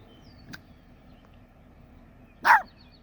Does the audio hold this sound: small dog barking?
yes